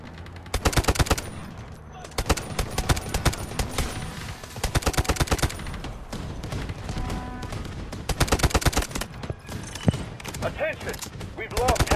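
Automatic and single gunfire in the first-person shooter Delta Force: dense rapid bursts of shots, loud and close, repeating throughout with brief gaps, alongside occasional in-game voices.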